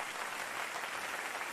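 A frog-like creature in an animated series claps in a dense, steady burst that stays fairly loud and unbroken for about a second and a half, with no talk over it.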